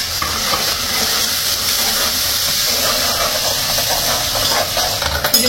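Ground tomato paste frying with softened onions in a pan for soya kofta curry, a steady loud sizzle and hiss throughout with occasional stirring scrapes near the end.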